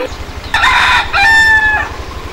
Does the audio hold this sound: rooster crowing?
yes